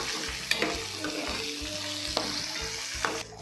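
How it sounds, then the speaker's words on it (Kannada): Dried red chillies frying in hot oil as a tempering for a greens and black-eyed pea sambar: a steady, dense sizzle with occasional sharp clicks of the spoon stirring in the pan, close and without any voices. "ಎಲ್ಲ ಹಾಕ್ಕೊಂಡು ಚೆನ್ನಾಗಿ ಫ್ರೈ ಮಾಡ್ಕೋಬೇಕು."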